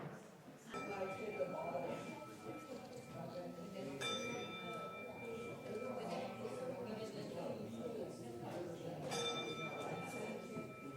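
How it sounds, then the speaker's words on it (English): A meditation bell is struck during a church service livestream, ringing out three times with sustained tones spaced a few seconds apart, clear above a low murmur of background room noise. "I will ding the meditation bell when it's time to come back."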